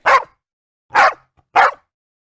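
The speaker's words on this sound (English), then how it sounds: "if anyone provokes a stray dog, it starts barking" A stray dog gives three sharp, loud barks close by, the first followed by a pause and the last two in quicker succession, with silence in between.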